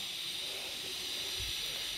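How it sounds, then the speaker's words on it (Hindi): A gas stove burner lit under a kadai in a home kitchen, giving a steady, even hiss that runs unbroken from start to finish with a faint low thump partway through. "देखिए गैस ऑन है, कढ़ाई चढ़ा दी हूँ।"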